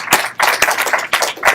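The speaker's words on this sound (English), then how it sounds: "So let's give yourselves a round of applause just for coming," A hackathon opening audience claps in short bursts, with bright, dense hand claps and brief pauses between the rounds, fairly loud and close.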